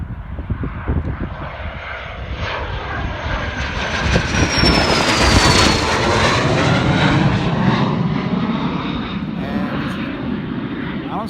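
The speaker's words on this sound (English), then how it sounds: "Let's see which way this guy turns. Oh, he's building up some speed." A private jet builds up speed on takeoff on a cold, windy day, its engines roaring loudly as the pitch climbs and sweeps past, with wind buffeting throughout.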